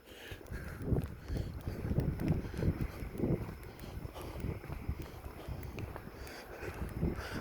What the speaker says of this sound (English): It's nice and breezy tonight, which is good because it cuts the humidity down